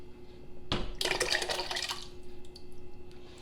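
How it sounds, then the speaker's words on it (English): Crushed tomatoes poured into a soup pot of ground beef and cabbage stew, a brief wet splashing glug lasting about a second, then fading into quiet. "I'm going to add my liquid, crushed tomatoes"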